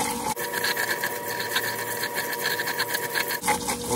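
A swimming pool filter pump set to rinse starts up and runs with a steady, loud mechanical hum and whir, holding constant before dropping briefly near the end; no one talks.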